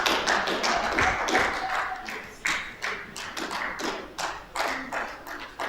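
Scattered hand claps at an event launching a health project, sounding as sharp uneven bursts of a few people clapping close by, growing and fading over several seconds with a little background murmur.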